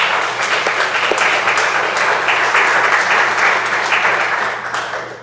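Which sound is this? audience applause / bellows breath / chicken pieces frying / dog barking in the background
audience applause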